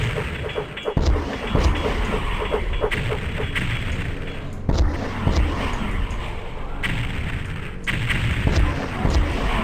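Rocket launcher blasts at monsters in Doom 64 Retribution on the GZDoom engine, map Dark Entries: dense, continuous game combat with repeated heavy booming explosions and thuds that stay loud throughout.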